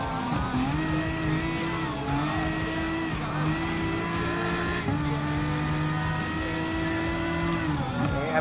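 GT3 race cars, including a 2017 Lexus RC F GT3 and a Ford GT, racing in Gran Turismo Sport, engines loud and continuous with repeated rising gear pulls and shifts as the cars drive on.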